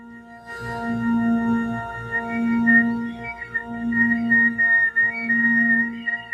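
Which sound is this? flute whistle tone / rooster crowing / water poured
flute whistle tone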